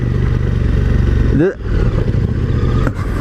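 A 2018 KTM 1290 Super Duke motorcycle being ridden, its engine droning loud and close with wind roar, then briefly dropping off and picking back up as the rider shifts.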